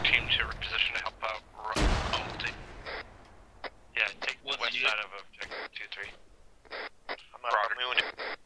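Game gunfire and a frag grenade blast in the Arma 3 video game during a squad training session, with one loud broadband burst near two seconds among scattered shots, heavily overlapped by radio-style voices talking throughout.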